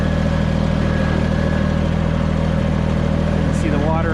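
A tractor engine drives steadily through a wet field of water and ice on the way to feed deer, a continuous close-up mid-pitched drone with a constant low rumble throughout.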